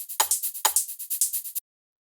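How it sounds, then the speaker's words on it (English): Ambient techno percussion loop, with a steady bright shaker pattern and two deeper low thumps, playing together for about a second and a half before cutting to silence. "the last thing that we have here is the percussion, which sounds like this all together"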